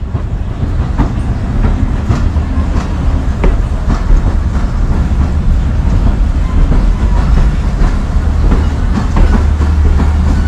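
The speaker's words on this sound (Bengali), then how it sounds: "এবারে যে রাজবাড়ি বা গোয়ালন্দ ঘাটের যে লাইন, সে লাইনে ট্রেনটি ঢুকলো।" Modhumoti Express with an old vacuum-brake rake rolling onto the Rajbari–Goalanda Ghat line, loud steady clickety-clack of wheels over rail joints with rumbling carriages, close and continuous.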